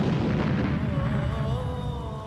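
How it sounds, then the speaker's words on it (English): An RPG launcher fires and an armored vehicle explodes in Nasiriyah, heard as a sustained, heavy rumbling blast with a low roar that fades slightly over a couple of seconds. "The Iraqi points his RPG launcher and fires."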